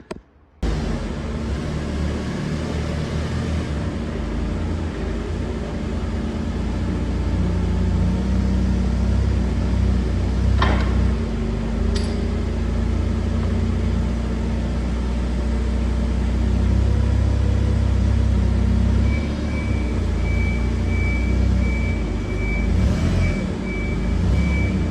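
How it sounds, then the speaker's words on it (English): Forklift working near a Suzuki Samurai in a shop, with a steady engine drone running throughout, a couple of sharp knocks midway, and a high steady beep late on. "we're gonna pick that up with a forklift"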